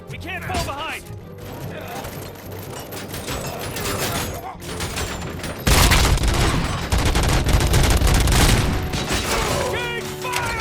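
Sustained gunfire in the RoboCop: Rogue City video game: rapid bursts and single shots with booming impacts, growing louder and denser partway through, mixed with shouted voices.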